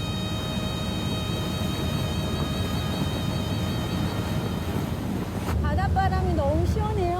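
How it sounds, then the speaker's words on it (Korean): Sea wind blows steadily across Ssukseom, a small island off Naro-do in Goheung, in winter: a constant broadband rush close to the microphone. It swells louder near the end as birdlike chirping tones come in. "바닷바람이 너무 시원해요"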